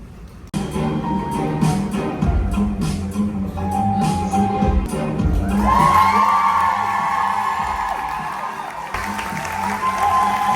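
A live true crime show audience on a Halloween cruise aboard a Virgin Voyages ship cheers, whoops and claps, a loud, lively crowd that swells toward the middle with shouts layered over applause.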